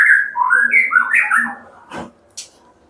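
A white-rumped shama sings a bright, varied run of whistled phrases up close, followed by a couple of short sharp notes.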